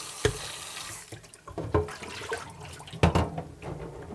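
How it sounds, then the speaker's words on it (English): Cold tap water runs over rice in a strainer during rinsing, giving soft splashing bursts and gurgles with a few sharper sloshes, close and fairly quiet with no talk. "I like to use a strainer to help me rinse this so it catches all the rice together"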